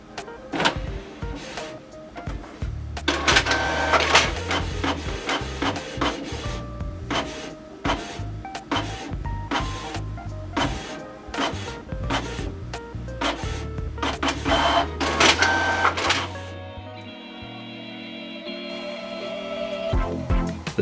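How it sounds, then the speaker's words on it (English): A Canon PIXMA TS300-series inkjet printer whirs and clacks steadily while printing its network information page, with repeated mechanical feed strokes and rattling, then shifts to a quieter motor hum near the end. "with the I button, I print the printer network information page"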